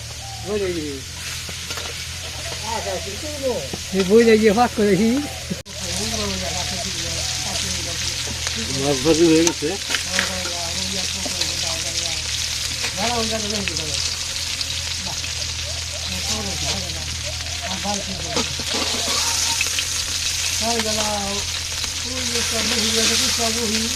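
Eggplant and potato pieces frying in hot oil in a village kitchen, a steady dense sizzle and crackle throughout, with occasional stirring clatter and a low background hum.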